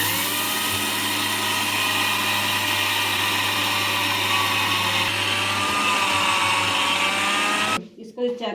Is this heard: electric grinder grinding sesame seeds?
yes